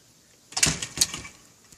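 A porch door in a house opens with two quick clattering knocks of the latch and frame, followed by a faint rattle, close and quiet in an otherwise still room.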